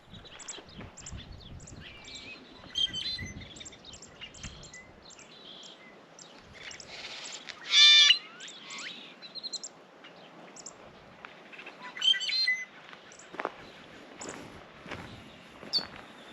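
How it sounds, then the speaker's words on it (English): Birds chirp and tweet intermittently outdoors at Canyon Lake, Arizona, with a few louder calls standing out against a quiet background and faint footsteps. "Birds are chirping"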